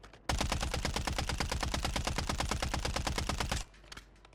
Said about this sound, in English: I'm shooting directly up there at the pilot.